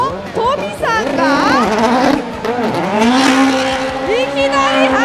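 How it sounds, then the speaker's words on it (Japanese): A Toyota Yaris WRC rally car driven by Tommi Mäkinen at a Suzuka motorsport festival roars loud and close, its engine revving up and down in rising and falling sweeps with tire squeal, while an announcer talks over it. "ヤリス WRC の登場です。 トミー・マキネン is driving。"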